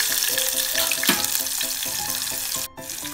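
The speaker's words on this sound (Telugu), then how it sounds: "ఉల్లిగడ్డలు మంచిగా గోలుచుకోవాలి. ఎర్రదాకా" Onions fry in a pan, browning toward red for a ridge gourd and tomato curry, giving a close, steady sizzle that briefly dips near the end, with no voices.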